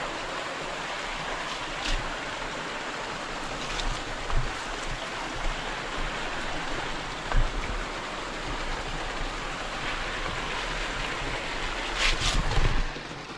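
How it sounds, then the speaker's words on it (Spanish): Water flowing down a countryside stream in rural Dominican Republic, a continuous broadband rush heard close and steady with small surges, no talking. "Pero por ahí también baja agua, a ver."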